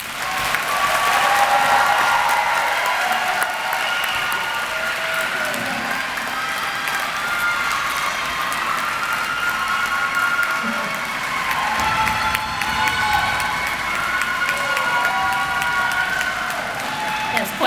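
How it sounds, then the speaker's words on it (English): A crowd at a 2025 adult high school commencement in Sussex Center claps and cheers for nearly eighteen seconds, a dense and sustained wall of applause with whoops rising through it and no break. "Quite the cheering section."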